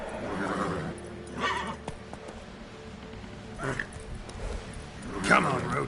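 Geralt's horse Roach in The Witcher 3 neighing and whinnying in several bursts over galloping hooves, while a man urges the horse on between them.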